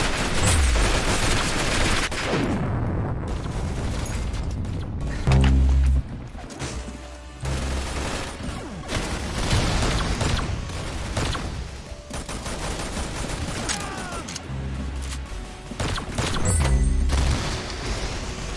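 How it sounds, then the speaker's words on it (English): Rocket launcher and heavy weapon fire in a Nerf Strike video game, loud dense bursts and booms packed throughout a busy, continuous game mix. "Oh god, it's a rocket launcher."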